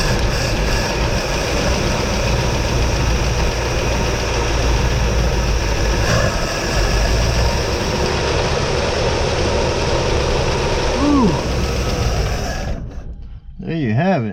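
A 1956 Pontiac engine, running for the first time after 40 years, holds a loud, steady, low idle throughout. Voices come in briefly as it fades toward the end.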